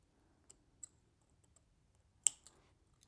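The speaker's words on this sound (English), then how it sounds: "Let me just snip that off real quick." Beading thread is snipped with small scissors, a few faint, sharp clicks scattered through near silence, with one louder snip near the end.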